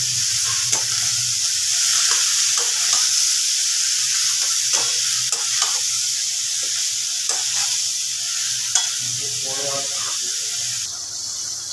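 Shredded cabbage fries in a hot pan with garam masala for a Bengali fish-head cabbage dish. A loud, steady sizzle runs throughout, with repeated scraping stirs of a spatula against the pan and a brief faint voice.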